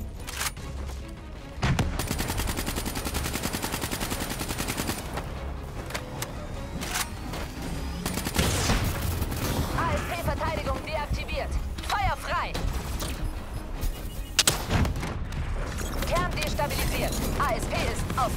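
Dense bursts of gunfire from Call of Duty: Black Ops 3, with rapid automatic fire, scattered impacts and mechanical clatter layered together, loud and nearly continuous, while a voice speaks over the combat.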